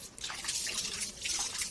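Water drips and trickles steadily while a dog's water bowl is rinsed under running water, with a close, continuous splashing wash and no talking.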